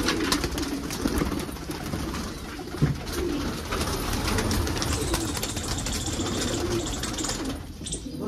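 Pigeons, including golden, Rampuri, Punjabi and kalsire breeds, coo repeatedly in soft, overlapping murmurs against a steady background hum, with a faint flutter of activity throughout.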